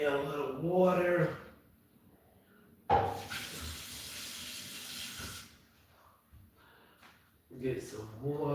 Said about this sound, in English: I'm going to get me a little water.